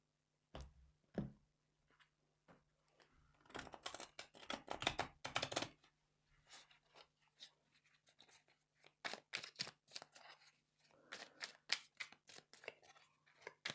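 Riffling and flicking of cards in short bursts with pauses between, close by and fairly quiet, no voices.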